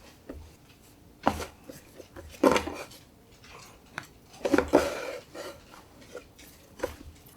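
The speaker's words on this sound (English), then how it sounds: "So we're gonna roughly flour our surface and plop on our dough." Dough thumps and slaps onto a floured work surface in several soft, close knocks and pats, with quiet handling noise between the impacts.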